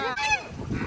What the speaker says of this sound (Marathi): किती जवळून बदक बघताय